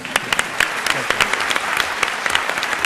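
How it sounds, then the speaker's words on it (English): Debate audience applauding throughout, a dense wash of many hands clapping with sharper individual claps standing out, steady and fairly close. "And I was going to ask for another round of applause for Robert Rosenkranz, and there it is."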